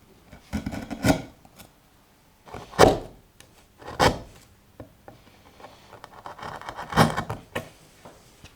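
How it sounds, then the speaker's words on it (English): A chisel scraping and paring wood on a hybrid Les Paul guitar body, a series of short rasping strokes separated by quiet pauses, close and fairly soft, with no talk. "So I'm just going to chisel out some bits covered in shite."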